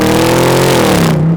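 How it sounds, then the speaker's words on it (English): A Bentley Continental GT's 4-litre V8 with an upgraded exhaust growls loudly and close, its deep note sliding down in pitch as revs drop before cutting off abruptly. "that V8 really grumbles, and that exhaust upgrade just brings it alive"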